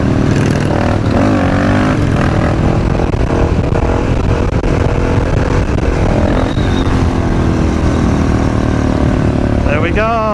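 A supermoto motorcycle engine revs hard through a wheelie, a loud continuous roar rising and falling in pitch, with riders' voices mixed in over the noise.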